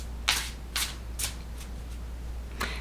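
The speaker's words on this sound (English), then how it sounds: "I'm just going to shuffle a little bit longer." A deck of cards being shuffled in several distinct riffling bursts spaced about half a second apart, close and fairly quiet over a steady low hum, with no voices.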